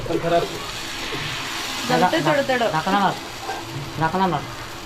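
Rice flour ghavane batter sizzling on a hot tawa, a soft continuous crackle sitting beneath a voice that talks through most of the moment.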